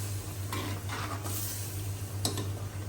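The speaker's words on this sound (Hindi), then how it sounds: "ये दाल मैंने बॉईल करके रखी थी, वो डालूंगी" Boiled daal lentils are tipped into mutton cooking in a pot, giving a soft wet plop and a stir against a gentle sizzle, with a couple of spoon clinks on the pot rim. Everything stays faint and close, with no speech.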